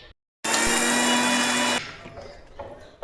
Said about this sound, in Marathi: परत मिक्सरला बारीक करते मी